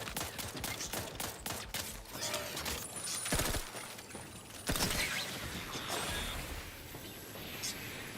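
Gunfire from the video game The Outer Worlds 2 cracks in rapid bursts and volleys, loud and dense, mixed with mechanical clanks and impacts.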